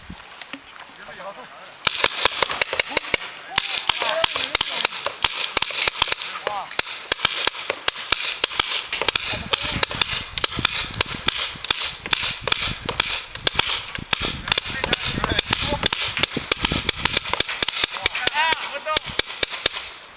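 Paintball markers fire during a paintball game: rapid, irregular bursts of sharp pops and cracks that run almost continuously, with shouting voices mixed in.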